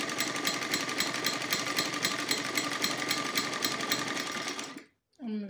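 Sewing machine stitching the side seam of a lined salwar, a steady, fast mechanical rattle running continuously at close range, then stopping abruptly near the end with a brief voice after.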